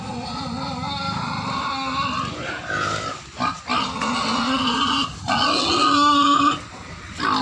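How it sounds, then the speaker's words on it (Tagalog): Pigs at a farm grunt and squeal steadily at feeding time, close and loud, in a dense overlapping chorus that continues throughout. "Ganito lang magpakain guys ng baboy."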